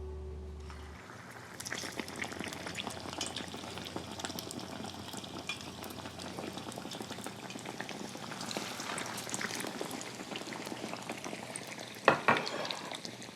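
Shrimp toast fries bread side down in hot oil, a dense, steady sizzle and crackle that runs continuously, with a brief louder clatter near the end.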